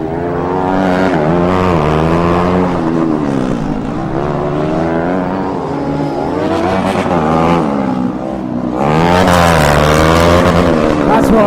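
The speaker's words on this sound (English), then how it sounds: "That's what a single cylinder sounds like without exhaust on it." A single-cylinder Formula Student race car engine running with no exhaust fitted barks loudly and continuously at close range, its pitch rising and falling as it revs, then swelling louder near the end.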